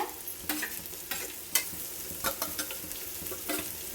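Capsicum, beans and grated carrot are stir-fried on high flame, with a constant sizzle broken by sharp spatula scrapes and knocks against the pan at an uneven rhythm, close and with no talking.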